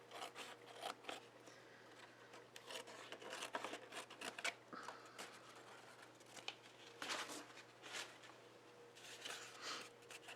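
Scissors cut a paper strip for a mixed-media painting, faint, close snips and rustling paper in an irregular series, with quiet handling noises between cuts.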